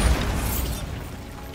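A Bombarda spell explodes in Hogwarts Legacy with a short, punchy burst and rumble that quickly decays into a fading tail.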